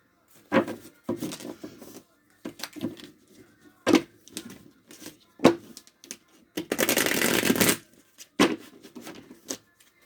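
Playing cards are shuffled and handled in short bursts of riffling and snapping. One longer, fuller riffle comes in the middle, close and fairly loud, with quiet gaps between the bursts.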